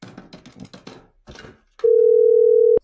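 After a brief burst of talk, a steady telephone dial tone sounds alone for about a second as a dropped call is redialed, then cuts off abruptly.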